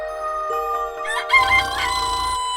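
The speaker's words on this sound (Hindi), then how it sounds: "5 बज गए, बांग देने का समय हो गया" A cartoon rooster crows a long, loud, warbling cock-a-doodle-doo over a steady high electronic tone, with the call rising and bending in the middle before trailing off.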